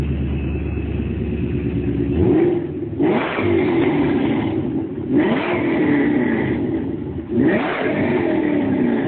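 A 2009 Cobra's engine is revved three times in a row, each rise climbing sharply from idle to a loud roar and dropping back, close and alone with no voices.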